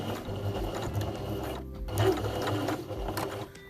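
A sewing machine stitches down Christmas scrap fabric, a fast mechanical whirr with ratcheting clicks, running in short bursts with a brief pause partway through, close and fairly quiet.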